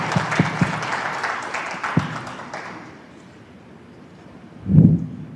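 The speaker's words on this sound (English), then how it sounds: "Hands of applause to our presenter" An audience at the Arusha International Tourism Conference and Expo applauds a presenter, a burst of claps with a few sharp, distinct hand strikes that thins and fades away, followed by a single dull low thump.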